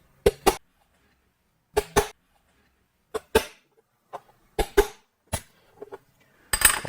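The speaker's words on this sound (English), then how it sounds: "I'll use a transfer punch to lay out the center of each of the holes to drill." Sharp hammer taps strike a transfer punch to mark hole centers in a workshop, close and loud, mostly in quick pairs with short gaps between them, about a dozen blows in all.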